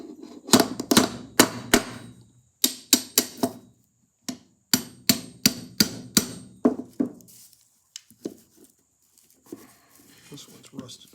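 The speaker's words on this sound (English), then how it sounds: "Now you need a brass hammer" Sharp metallic brass hammer strikes on a rusted Edison Home phonograph motor, quick bursts, a steady run of close knocks, then a few softer taps after a pause.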